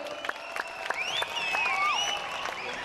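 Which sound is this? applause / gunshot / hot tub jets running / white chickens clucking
applause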